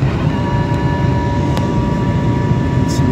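Airliner cabin during landing at Keflavik, Iceland, with a loud, steady, low engine roar and a faint high whine that hold throughout.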